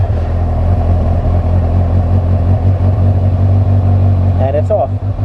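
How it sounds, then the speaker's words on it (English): A motorcycle engine, just after an oil change, idles with a steady close low rumble throughout, ending in a short rising rev. "your final step is to start the bike and make sure you don't get a oil pressure warning"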